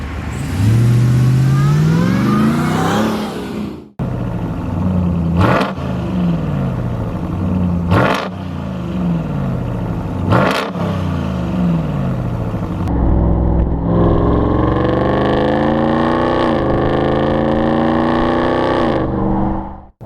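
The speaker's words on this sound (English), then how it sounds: "That's really the best way that I can describe how this engine sounds." A 2021 Ram 1500 TRX pickup engine revs hard and repeatedly, rising and falling in loud roaring sweeps, with sharp cracks between revs and a sustained high roar near the end.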